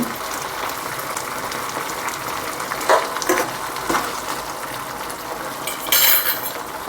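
Fried chicken pieces being stirred into sauce in a pan for restaurant-style chilli chicken: a steady sizzle throughout, broken by intermittent metal scrapes and clinks of a spoon against the pan.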